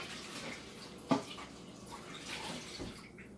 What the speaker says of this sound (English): Let me just rinse this out real quick.